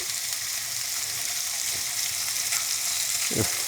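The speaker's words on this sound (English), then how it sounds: "it's the time to drop the hot dogs here. You see it is sizzling." Hot dogs fry in a pan with a steady, close sizzle, a continuous hiss with a couple of brief pops or scrapes near the end.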